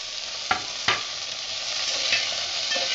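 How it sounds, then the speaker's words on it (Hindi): Curry leaves, green coriander, tomato and spices fry in a pan for a brinjal and green chilli chutney, a loud continuous hiss with two sharp scraping knocks early on, no talk. "इसको थोड़ा सा फ्राई करना है"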